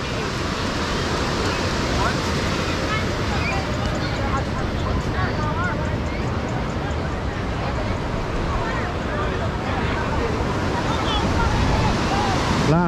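Ocean surf on a hot day at Jones Beach, New York, rolling as a steady broadband wash with crowd babble and voices mixed throughout and a speaker talking over it.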